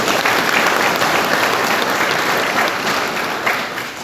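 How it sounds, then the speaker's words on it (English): A church audience at a seminary thanksgiving program in Tamenglong gives a round of clapping. The applause is loud, dense and steady throughout and tapers slightly near the end. "Shall we celebrate one another with a round of clap?"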